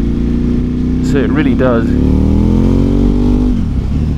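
An uprated Duke motorcycle of over 130 horsepower with a loud aftermarket exhaust runs with a steady, deep engine note close by, while someone talks over it.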